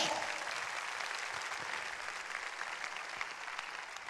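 Sustained applause from a church congregation fills the room, a dense, even clatter of many hands clapping for several seconds.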